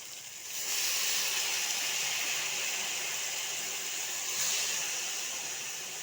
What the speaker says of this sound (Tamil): வெங்காயம் தக்காளியெல்லாம் வதங்கிட்டு இப்போ கீரை போட்டுக்கலாம்.